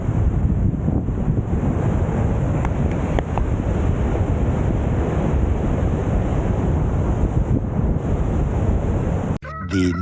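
Large sea waves churn and crash continuously near the shore among the Hundred Islands in Pangasinan, a dense roar with heavy wind buffeting the microphone, ending abruptly with a brief dip.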